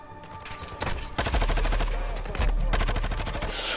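Loud bursts of automatic gunfire in Call of Duty Warzone, rapid rattling volleys that come in a couple of sustained stretches with brief gaps, up close and dominating.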